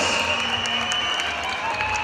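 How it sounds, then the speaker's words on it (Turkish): Outdoor crowd applause at a European mountain bike eliminator championship, a steady wash of clapping mixed with a thin constant whistle-like tone and background noise. "Şu alkışlar gelsin şimdi."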